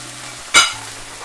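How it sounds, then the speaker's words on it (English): White wine hits a hot pan of sea bass preparation with a single sharp hiss that swells suddenly and then fades quickly, loud and close. "It says now add white wine, allow it to bubble for 30 seconds."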